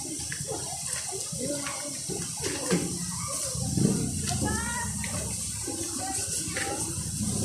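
Broad, steady rush of water at Daranak Falls fills the scene, continuous and moderately loud, with people talking over it throughout.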